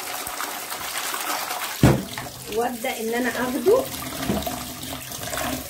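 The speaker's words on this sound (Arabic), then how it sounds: "وارمي الميه اشطفه كمان مره" Tap water runs steadily into a sink while raw beef intestines (mumbar) are rinsed in a kitchen, with splashes and handling noises as someone speaks over the flow.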